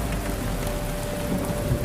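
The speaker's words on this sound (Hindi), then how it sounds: "अचानक आसमान से बिन मौसमी बारिश शुरू हुई और धीरे धीरे आग शांत हो गई।" Sudden unseasonal rain pouring down in a dense, even hiss of drops over a low rumble, loud and steady with no voices.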